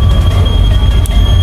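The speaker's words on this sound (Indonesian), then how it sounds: "kereta api Bogor Kota Sukabumi ini sekarang udah mulai berangkat dari stasiun Bogor Paledang menuju Kota Sukabumi" Pangrango train on the Bogor–Sukabumi line pulling out of Bogor Paledang station: a loud, steady low rumble of rolling railcars, continuous and close.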